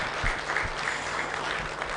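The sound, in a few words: applause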